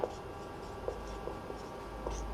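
Chalk or pen writing during a Class 12 maths lesson on functions, heard as a few soft scratchy strokes at a steady slow pace, close and faint over a quiet room with no talk.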